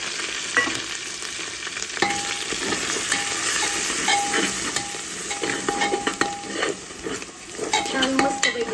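Masala with coriander for chicken biryani is sautéed and stirred in a pan: a steady, close sizzle of frying with scraping strokes of a spoon against the metal throughout.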